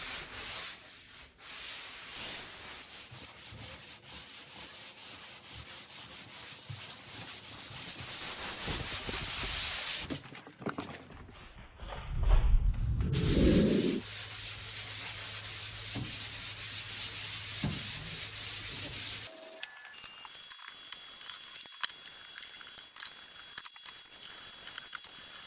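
Hand sanding a surface by hand before priming and painting: steady, close rubbing strokes of abrasive paper going down and side to side, with a louder scuffing burst partway through and no talking.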